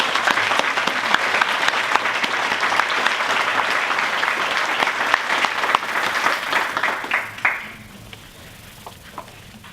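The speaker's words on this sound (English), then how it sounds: "Please give a round of applause to all of our finalists." Loud, sustained applause from an awards ceremony audience honoring finalists, a dense wash of clapping lasting about eight seconds before it thins out and fades to quiet.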